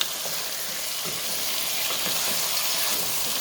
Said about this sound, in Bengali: তেলের উপরে মশলার উপরে একটু কষানো হোক